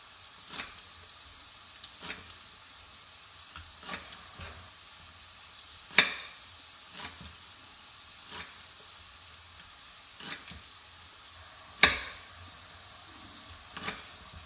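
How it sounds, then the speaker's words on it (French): Carrots sizzle softly in a pan for a seafood blanquette, a faint steady frying hiss broken by occasional sharp clicks of stirring, with no voices. "Vous entendez toujours un peu chanter nos carottes."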